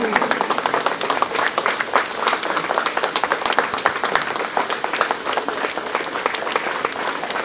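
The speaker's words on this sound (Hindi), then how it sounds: "एक बार जोरदार तालियों से स्वागत करेंगे।" Loud, vigorous applause from a crowd at a political rally in Delhi, with dense, rapid clapping that stays strong and steady for over seven seconds while a voice carries on over it.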